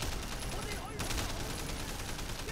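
Gunfire from the video game Sleeping Dogs: a dense, continuous burst of rapid shots, loud and close, with a voice talking over it.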